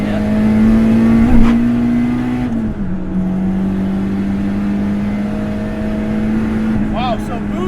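Turbocharged Honda Del Sol TransTop engine revving hard under acceleration, a loud steady drone that climbs in pitch, dips briefly at a gear change, then holds high again from inside the car, with someone talking over it.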